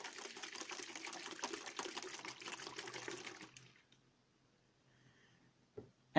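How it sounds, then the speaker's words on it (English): A bottle of homemade hand sanitiser is shaken vigorously, producing about three seconds of close, sloshing liquid rattle, followed by near silence and a sharp knock at the end. "And then give it a shake."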